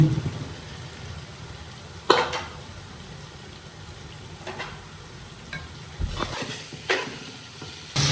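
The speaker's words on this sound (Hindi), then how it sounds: "अभी हम इसमें ऐड करेंगे मटर के दाने, वेजिटेबल ऐड करेंगे इसमें" Peas, cauliflower and other vegetables land in a sizzling beef vegetable pulao masala, giving a steady fry with a few sharp clattering drops and stirring scrapes; nobody speaks.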